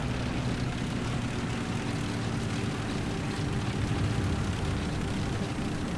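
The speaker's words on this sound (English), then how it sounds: "Plane is flying around." A propeller airplane drones around in War Thunder, a constant engine roar filling the scene at even loudness, while someone briefly speaks over it.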